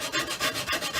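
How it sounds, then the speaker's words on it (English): A sanding block with coarse sandpaper worked over the wood of an acoustic guitar under construction, making a close, brisk rasping in about five even back-and-forth strokes within a second. "A sanding block, and I'm making sure these are all flush."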